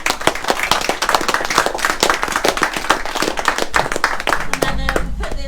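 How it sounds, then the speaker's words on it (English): A round of applause for riders at Dyfi Bike Park, a dense burst of many hands clapping close by, steady and lively throughout with a few voices mixed in. "Let's give them a round of applause."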